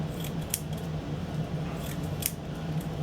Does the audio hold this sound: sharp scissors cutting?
yes